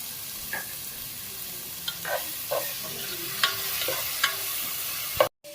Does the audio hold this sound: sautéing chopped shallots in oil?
yes